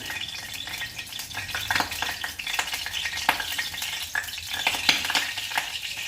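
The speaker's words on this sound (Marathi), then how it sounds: "पहिली फोडणी करून घेऊ" Mustard seeds and cumin sizzle and crackle in hot oil as a tempering, with sharp popping bursts and occasional stirring scrapes, fairly close and steady.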